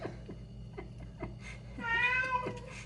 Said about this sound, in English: And there's a cat meowing as well.